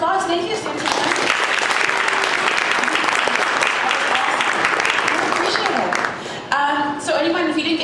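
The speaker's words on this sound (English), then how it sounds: "Let's give you a round of applause." Loud, sustained applause from the audience at a 1 Million Cups Dallas startup pitch event after a question-and-answer session, dense clapping filling most of the stretch, briefly dipping near the end, with a voice speaking at the start and close.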